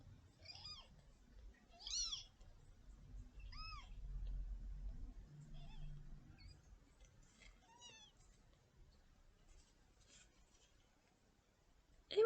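Small orphaned kitten mewing in thin, high cries, several separate meows spaced over a few seconds, close and fairly faint, with soft rubbing and handling noise underneath and a brief louder bump at the end.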